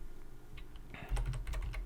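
Quiet keystrokes on a computer keyboard during C# programming, starting after a near-silent stretch with a quick, irregular run of soft clicks close by.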